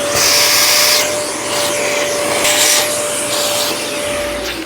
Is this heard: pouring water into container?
no